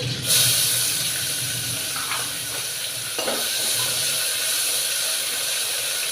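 Chopped onions sizzling in oil in a pan for a cluster bean and tomato curry, with dried red chillies already added; a steady close frying hiss with a few stirring scrapes and no talking.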